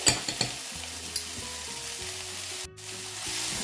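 Minced meat with curry and garlic purée sizzling in a frying pan, a steady crackling hiss broken by scraping, clattering stirs of a utensil, close up and with no one talking.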